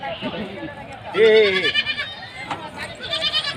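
At a goat market, a goat gives a loud wavering bleat close by, with further bleats among overlapping voices of people talking throughout.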